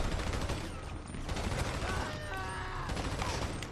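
Gunfire in the Grand Theft Auto Online video game, a dense crackling fusillade of rapid shots running steadily throughout, mixed with game noise and faint voices.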